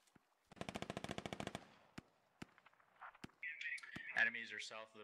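Gunfire in the video game Squad: a fast, loud burst of automatic fire followed by scattered single shots, with a voice speaking over the end.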